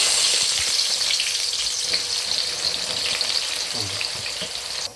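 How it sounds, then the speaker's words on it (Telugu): Sliced raw onions deep frying in oil for a Sunday dum biryani, a steady dense sizzle and crackle that stays loud and continuous throughout, with no talking. "ఇప్పుడు మనము కట్ చేసుకున్న ఆనియన్ను ఆయిల్లో డీప్ ఫ్రై చేసుకోవాలండి."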